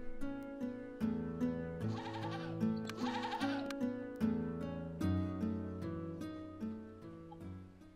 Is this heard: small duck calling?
no